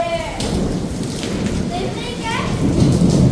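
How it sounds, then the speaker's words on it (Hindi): Heavy rain pours during a violent storm in the NCR region, a dense, loud hiss with a low rumble of thunder, while voices talk faintly in the background. "भाई साहब बारिश ऐसे पड़ रही है इधर को।"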